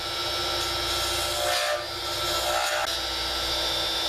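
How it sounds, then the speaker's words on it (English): A lathe parting tool cuts into a spinning Alumilite resin pen blank, making a steady close hiss and rushing scrape with faint rises in intensity, and no talking. "Now I've got my parting tool."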